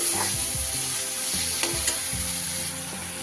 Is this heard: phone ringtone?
no